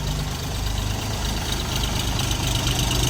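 A small three-cylinder KM-385 diesel engine on an Orion 244 four-wheel-drive mini tractor idles close by with a steady, rough, knocking rumble that never changes pace.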